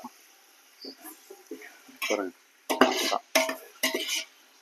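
Tomatoes and green chillies being sautéed with ginger in a pan for ghee rice, heard as short bursts of scraping and stirring clatter with a faint sizzle, while a person talks between the strokes.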